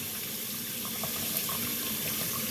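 Hot water runs steadily from a kitchen tap into a sink, a continuous close splashing rush with no pauses, heard alone while preparing homemade gravy.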